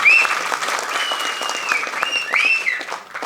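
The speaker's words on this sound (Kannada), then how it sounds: "ಇಂಥವ್ರಿಗೆ ಇನ್ನೊಂದ್ಸತಿ ಜೋರಾಗಿ ಚಪ್ಪಾಳೆ ಹೊಡೆದ್ರೆ ತುಂಬ ಖುಷಿ ಪಡ್ತೀನಿ." A crowd at a film press meet breaks into loud, sustained applause, dense clapping running throughout with a few whistles cutting through near the start and end.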